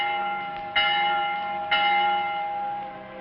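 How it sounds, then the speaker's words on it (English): A church bell rings for vespers, two deep resonant strikes whose long humming tones overlap and slowly fade, clear and without voices. "The Vespers bell."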